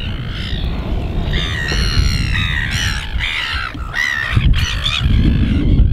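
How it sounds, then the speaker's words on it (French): Several seabirds squawk and caw loudly and continuously, squabbling over a fish just caught by a fisherman on the Wellington waterfront, with harsh overlapping calls against steady outdoor background noise. "les oiseaux ici se battent tous pour l'avoir"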